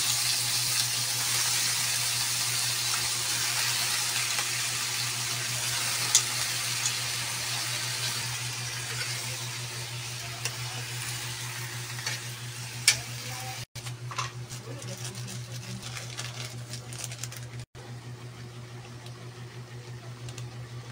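Shrimp and onions sauté in a hot pan, giving a continuous close sizzle with occasional stirring clicks and a steady hum underneath, no talk.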